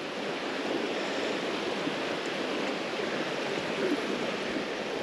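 A river flowing past trees that reach into the middle of the channel, on a trout stream, gives a steady broadband rush of water, close and continuous with no voices.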